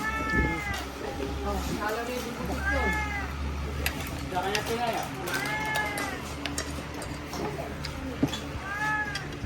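A cat meows several times at a distance, with rising, drawn-out calls spaced a few seconds apart over a steady background hum while people talk nearby.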